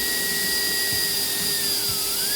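A compact high-power turbo fan, the TF50A1 blower, runs on its second speed setting at about 21.6 m/s, giving a loud, steady, close rushing roar with a constant whine, alone and without talk.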